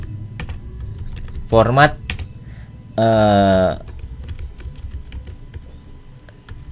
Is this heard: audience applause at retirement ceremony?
no